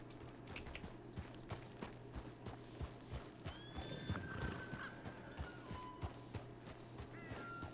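Horse whinnies and steady clip-clop of hooves from Red Dead Redemption, with repeated hoofbeats throughout and a few high neighs rising over a low in-game ambience.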